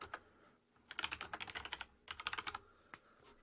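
Close, quiet typing on a computer keyboard comes in two quick bursts of rapid key clicks, separated by a short pause, with no voices.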